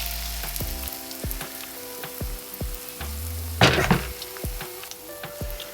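Pancake batter fries in a pan with a soft steady sizzle, punctuated by several sharp knocks and clanks of cookware and one brief louder burst of spattering near the middle.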